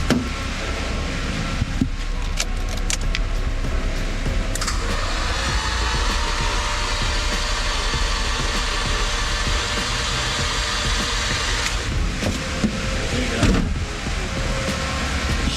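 A forged, built RB25 engine in a Nissan R33 drift car cranks on the starter and struggles to fire, giving a loud, steady mechanical whir that runs for about seven seconds over a constant engine-bay drone.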